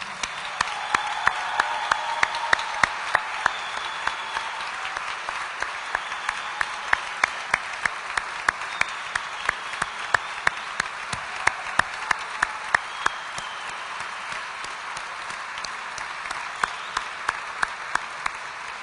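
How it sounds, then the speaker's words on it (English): An audience at a gala honoring military veterans applauds, its sustained clapping carrying a few sharp, close individual claps that stand out before tapering slightly toward the end. "Let's all give them a round of applause, please."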